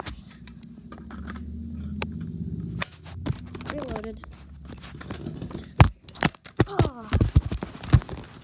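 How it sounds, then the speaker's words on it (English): Video game gunfire crackles in sharp, scattered shots, sparse at first and then in quicker bursts over a steady background drone, with a voice talking throughout. "they're shooting at me"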